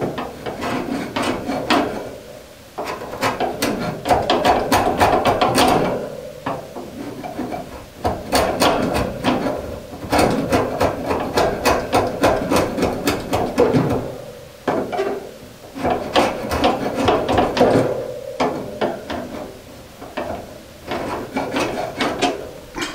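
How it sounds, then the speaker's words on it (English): A tool scrapes repeatedly along the wooden edge of a door and its door jamb, coming in loud, rough bursts separated by brief pauses, close up with no talking. "scrape down the edge of the door here, and also the door jamb, the edge of the door jamb"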